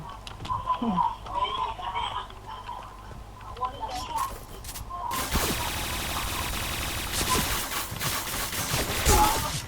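Gunfire in a Thai-language shooting video game, as a rapid burst of shots breaks out midway and continues in dense volleys, with a player talking over the action.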